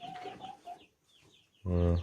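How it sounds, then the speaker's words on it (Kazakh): Brahma hens and a rooster cluck in a backyard coop, soft short clucks and murmurs near the start, then a pause, followed by one loud, close, drawn-out call near the end. "Әзірге осы әтеш қарап тұр тауықтарға."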